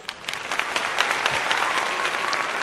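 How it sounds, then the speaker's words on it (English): A live audience at a podcast taping for episode 90 breaks into a short burst of applause, a dense, fairly close wash of many hands clapping at an even level throughout. "It deserves a round of applause."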